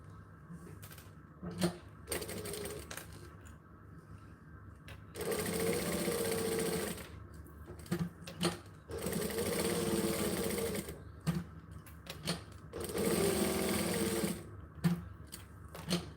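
A sewing machine stitches in three long sustained bursts, each running a couple of seconds, with pauses between them filled by small clicks and handling noises.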